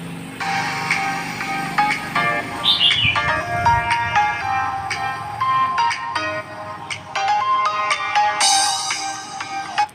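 Ringtone melody played through a used phone's loudspeaker, bright chirpy tones and short repeated notes that run continuously and fairly loud, with no talking.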